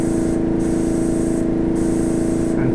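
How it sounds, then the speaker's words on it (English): Aerosol can spraying bright yellow paint onto an electric guitar body, a loud continuous hiss in short bursts with brief gaps between passes, heard close up. "you can get real close to the artwork, you know, and spray some really bright yellow in there"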